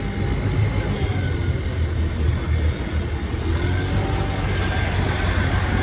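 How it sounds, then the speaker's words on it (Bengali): A motorbike engine runs steadily while riding at night on an unlit road, a continuous low drone with wind rumble, close and fairly loud throughout. "আমি এখন বাইক চালাচ্ছি"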